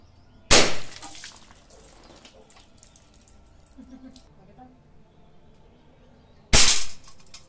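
Two sharp, loud gunshots from target shooting, about six seconds apart, each with a brief echoing tail, separated by quiet outdoor background.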